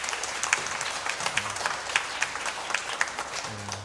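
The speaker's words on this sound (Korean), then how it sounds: "박수로." Church congregation applauding during a Sunday worship service to congratulate a member on a newborn grandson, a steady wash of moderate clapping with a low hum underneath.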